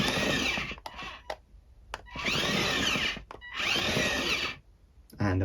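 Remote-controlled CB-23 Star Wars Galaxy's Edge droid toy's head-turning motor, a close whirring buzz in several bursts of about a second each, separated by clicks and short pauses.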